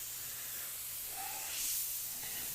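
An airbrush sprays paint onto a skull flag artwork, giving a soft continuous hiss that swells briefly near the middle, faint and close with no talk.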